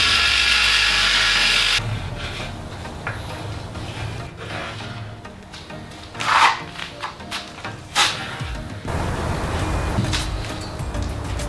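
Hand sanding of patched putty on a DIY garage slope with a file or 180-grit sandpaper: a dense, steady rasp for about two seconds, then quieter, irregular rubbing strokes with a few sharper scrapes, close and without talk.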